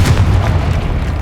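Confringo explosive spell from Hogwarts Legacy, a single loud, deep boom that opens sharply and rumbles on briefly.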